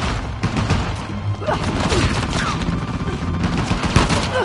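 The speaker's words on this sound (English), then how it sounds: "Talking about gunfire then." Dense video-game gunfire in Uncharted: The Lost Legacy, a continuous loud barrage of rapid shots and bursts with crashing impacts, sustained throughout without pause.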